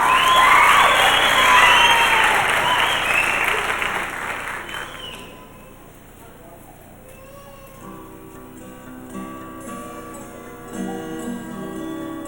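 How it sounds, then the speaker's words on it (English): Crowd applause with some cheering for a contestant at the 1989 Tularosa Rose Festival pageant, loud and dense for about five seconds before fading into quieter room sound with faint music. "Let's have a great big round of applause for Miss T.C."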